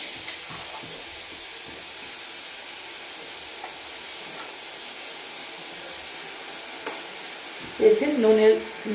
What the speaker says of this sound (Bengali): একটু মেল্ট করে নেব নলেন গুড়টাকে